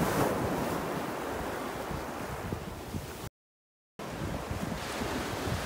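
Ocean surf washes onto a beach at Delnor-Wiggins Pass State Park as the tide comes in, a steady broadband roar of breaking waves mixed with wind buffeting the microphone, broken by a brief total dropout partway through.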